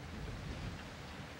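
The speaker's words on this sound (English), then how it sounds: "It's starting to rain now" Steady rain falls in a film scene with a low rumble of thunder beneath it, a soft, continuous wash of noise with no talking.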